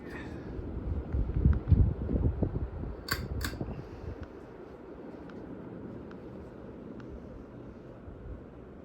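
A Hunter Paramount XP ceiling fan spins at high speed, giving a broad, steady rush of moving air with low rumbling and a few faint clicks and ticks, alone with no talk.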